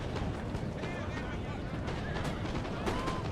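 Musket volleys crackle in a Napoleonic-era Total War online battle, a dense dull rumble of distant gunfire and booms filling the background while someone talks over it.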